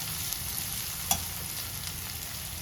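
Spices are stirred into a sizzling frying pan, a steady close frying hiss with one sharp scrape of the spoon partway through.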